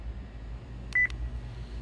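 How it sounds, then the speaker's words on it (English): A phone chimes once with a brief, clear electronic tone announcing an incoming text message, standing alone over a low, steady background hum. "Now my phone isn't ringing. Now it's just, you know, a text."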